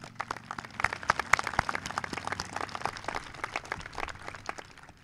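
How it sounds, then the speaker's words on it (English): Scattered applause from a graduation crowd honoring school staff, a loose patter of individual claps spread across the room, moderate and steady throughout. "Let's give them a round of applause for their efforts."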